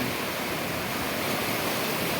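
Sea waves break and wash in a steady, loud roar of surf close by, with no pauses or voices.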